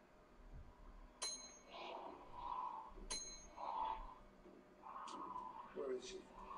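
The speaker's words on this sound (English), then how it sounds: "Ring the bell." Two sharp metallic bell strikes ring out about two seconds apart, faint and brief, under tense dialogue and low background noise.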